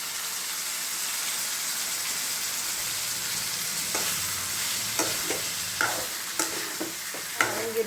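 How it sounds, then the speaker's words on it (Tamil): Pirandai (adamant creeper) sautéing in a pan, a steady soft sizzle with a few scattered stirring scrapes and taps toward the end. "பிரண்டையை வந்து நல்லா இப்போ வதக்கணும்"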